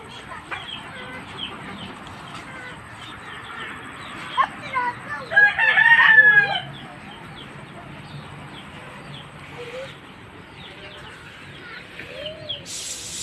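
Chickens cluck steadily with a loud rooster crow rising in the middle, close by, amid outdoor background noise.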